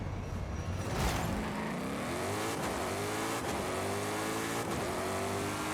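Shelby GT500 engine in Forza Horizon 5, revving and climbing through the gears with rising harmonic pitch sweeps, loud and close throughout, no talk.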